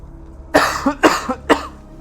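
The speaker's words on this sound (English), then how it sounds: "You may hear me cough occasionally." Three harsh coughs in a row, close and loud, each a sharp burst with a short wheezy tail, spaced about half a second apart.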